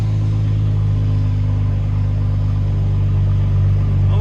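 BMW X5 M40i 3.0L with a modified exhaust idling, a loud, deep, steady burbling rumble held evenly from start to finish, close up.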